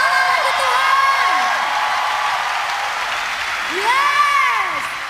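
At a Christian worship concert, an audience applauds and cheers in a steady, dense wash of clapping, layered with sustained voices and tones rising toward the end.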